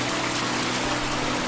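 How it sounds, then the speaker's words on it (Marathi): Water from a natural forest spring in the Konkan countryside trickles steadily and close by, a continuous soft splashing with no pauses and no voices. "हा झरा आहे"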